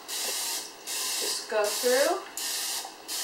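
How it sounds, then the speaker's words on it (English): Cooking spray hisses into a muffin tin in several short bursts, each about half a second long and close to the mic. Someone talks briefly between and over the sprays. "So I use cooking spray, and what I do is I hold my pan up"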